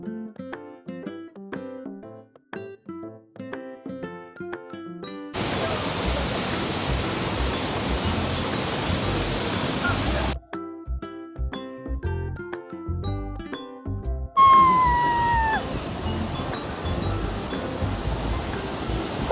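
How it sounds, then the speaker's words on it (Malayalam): Monsoon waterfall in Thrissur, a broad steady roar of falling water in two loud stretches, broken by quiet interludes of soft tinkling chime-like tones. "ഒരു അടിപൊളി വെള്ളച്ചാട്ടമാണ് ഇവിടം"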